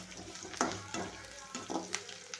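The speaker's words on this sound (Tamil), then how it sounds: "வெங்காயம் வதங்கிருச்சு." Onions fry in a pan while a spoon stirs them, giving a soft sizzle broken by several scraping strokes, close and fairly quiet.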